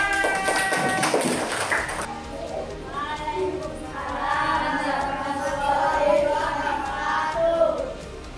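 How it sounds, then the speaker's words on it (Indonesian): Children clapping in a classroom, a brief burst of rapid applause at the start followed by chatter and talking voices. "Tepuk tangan."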